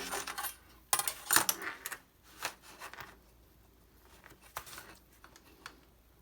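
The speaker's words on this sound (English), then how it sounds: "when you're cutting with a craft knife, it's not how hard you push" A craft knife drawn through cardstock in several passes, giving short, quiet scraping and scratching strokes in uneven bursts with pauses between them and no talking.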